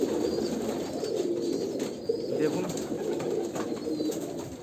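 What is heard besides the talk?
Andhra Kalanka pigeon cooing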